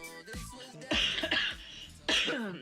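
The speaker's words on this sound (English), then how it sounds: "Still have a nagging cough." Several raspy coughs and throat clearing from a person with a lingering, nagging cough, close and fairly loud, in short bursts separated by brief pauses.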